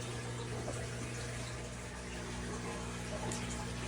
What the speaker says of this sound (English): it makes it a lot easier to fill the tote up real close to where your fish tank is